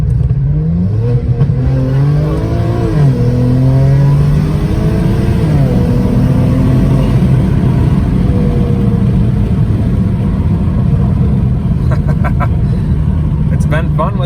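A BMW with an N54 engine on its stock turbochargers accelerates hard from inside the cabin, its loud engine note climbing through the gears with shifts in between and a steady roar of road noise underneath.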